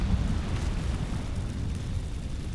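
Incendio fire spell cast in Hogwarts Legacy, a dense, steady roaring whoosh with heavy low rumble, held loud and close for the whole moment, no voices.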